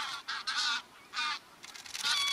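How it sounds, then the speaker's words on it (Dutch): Greylag geese honking in flight among a mixed flock, several loud nasal honks in bursts and overlapping calls, fairly close and continuous with no talk. "te midden van de grauwe ganzen"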